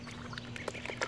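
Magpie ducklings splash in shallow water, giving soft irregular splashes and faint peeps in a short, quiet, close burst.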